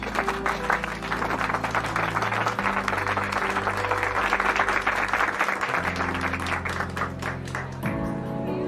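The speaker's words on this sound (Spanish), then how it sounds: "Ahora tocaría aplaudir." Applause rises from an audience over a sitcom scene and runs steadily for almost nine seconds, with a sustained musical tone mixed underneath throughout.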